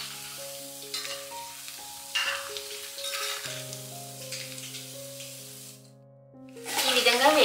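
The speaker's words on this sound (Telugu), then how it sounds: "వీటిని మనం గరిటెతో కలుపుతూ అన్ని వైపులా సమంగా వేగేలాగా వేయించుకోవాలి." Paneer potato balls frying in oil while being turned with a ladle: a bright sizzle with scraping strokes, a brief lull near the end before the hissing swells again, backed by a soft steady hum.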